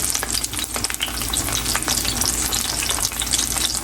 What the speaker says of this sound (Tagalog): Tapos magluto tayo ng talong. Diba? Masarap yan, talong.